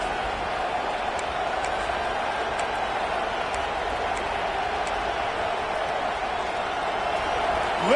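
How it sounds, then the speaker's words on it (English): A football stadium crowd roars steadily during a defensive stand against Oklahoma State, a dense, sustained wash of cheering and noise that holds at an even level throughout with no distinct voices standing out. "Listen to this crowd just shaking the girders of this place, trying to help their defense."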